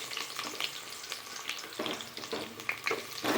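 Sliced onions frying in hot oil for vegetable biryani, with cinnamon and bay leaf in the pan, give a close, steady sizzle broken by scraping stirs.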